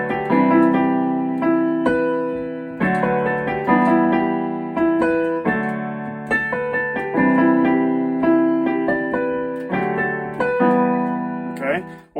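Piano plays a slow melody voiced as full right-hand chords over low bass notes, each chord ringing and fading before the next, with no talking.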